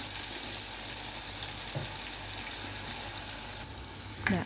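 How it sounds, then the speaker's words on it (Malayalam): Spices and masala for a fish curry sizzle steadily in a hot pan. The loud, constant frying hiss is broken by a few brief stirring scrapes, with no voices. "എന്നിട്ടിത് നന്നായിട്ട് മൂക്കുന്ന വരെ നമ്മൾ വെയിറ്റ് ചെയ്യണം നന്നായിട്ടൊന്ന് ഇളക്കി കൊടുക്കണം"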